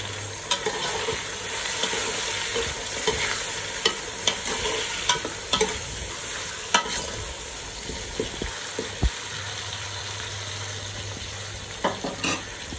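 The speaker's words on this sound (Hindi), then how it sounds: "अब इसमें हम डालेंगे टमाटर, और टमाटर को कम से कम हमको 5 मिनट भूनना है।" Tomatoes frying in a pan with browned onions for chicken biryani give a steady, close sizzle, with frequent light clicks and scrapes of a spoon stirring and no voices.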